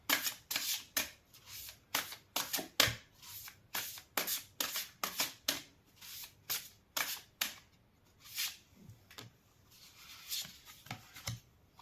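Tarot cards are shuffled and drawn by hand, a quick run of sharp riffling flicks and slaps in uneven bursts, close and fairly quiet, with no talking.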